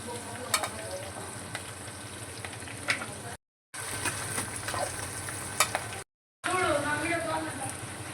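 Onions and green chillies sizzle as they temper in hot oil with cloves and cinnamon, a steady frying hiss broken by occasional stirring scrapes, with a short break partway through.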